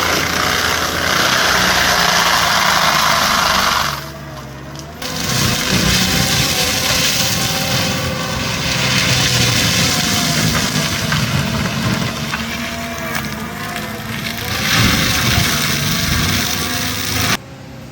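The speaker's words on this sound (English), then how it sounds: "You can hear the mulcher going behind me." A disc mulcher's engine runs steadily and loudly while clearing land, with a low rumbling drone and a brief dip in intensity before it resumes.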